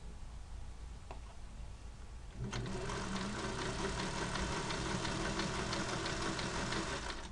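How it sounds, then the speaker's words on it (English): Sewing machine running steadily while stitching a narrow zigzag over basting along a sleeve's underarm seam, starting after a couple of seconds of low hum and continuing as a close, even rattling whir. "You're going to be stitching right over your basting stitches."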